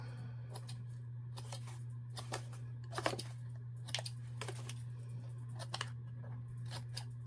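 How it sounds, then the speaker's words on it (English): Scissors making a series of small snips in paper, crisp and close, in irregular bursts of a few quick cuts separated by short pauses over a low steady hum. "what I do on the circular part is just make little cuts like this so that it will fold around easier"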